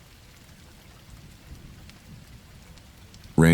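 Rain falls steadily with soft low thunder rumbles rolling underneath, a fairly quiet storm ambience that ends in a sudden loud burst at the very end.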